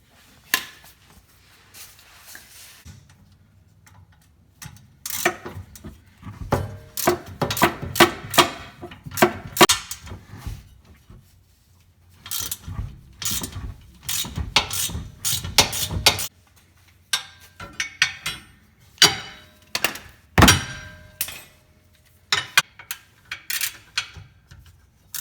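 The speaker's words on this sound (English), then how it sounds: "What you have to do is pop off these 4 bolts, and the whole drum will come out itself." Bolts being worked loose from a car's brake drum, with a run of sharp metallic clicks, taps and clunks in irregular bursts, close and fairly loud, with short pauses between clusters.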